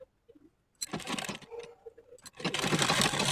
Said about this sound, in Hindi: हम यहाँ पे एक मजबूत सिलाई लगा लेंगे।